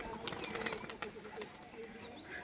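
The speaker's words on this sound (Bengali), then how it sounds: "এই যে আওয়াজ দেখুন বাজির" A crested pigeon claps its wings in flight, a quick series of sharp dry slaps followed by softer flapping, fairly faint and close, with no talk over it.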